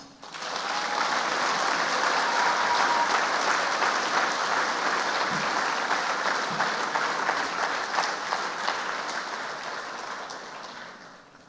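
Sustained applause from a dinner audience fills the room, steady and dense from start to finish before easing off slightly at the end.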